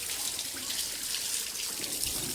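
Water runs in a steady, faint stream while a car is washed, with a soft continuous splashing and no voices.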